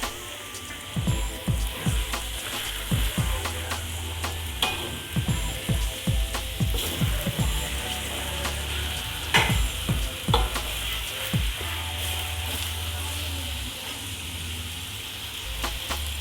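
Meat for mie gomak, a Batak noodle dish, fries in a pan with a steady sizzle while a utensil stirs and scrapes against the metal in repeated close clatters, with no voices.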